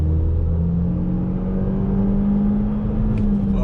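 An Opel Insignia 1.6 turbo engine droning at high revs, its pitch rising steadily and then holding, loud and close as from inside the car.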